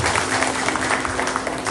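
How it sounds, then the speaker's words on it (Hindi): A crowd at an honor event applauds in a brief, dense burst of steady clapping, loud and continuous throughout. "आप इन सब के लिए तालियां बजाइए"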